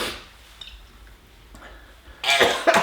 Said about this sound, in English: I coughed up the fluff that I swallowed before.